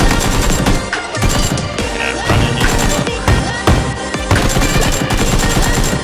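Sustained automatic rifle fire from a Groza in the battle royale game PUBG, loud and dense with rapid overlapping bursts and crashing impacts throughout, no clear pauses.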